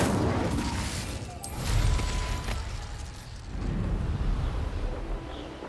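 An Incendio fire spell is cast in Hogwarts Legacy: a rushing burst of flame and crackling pops swells, fades and swells again at moderate loudness, with no talking over it.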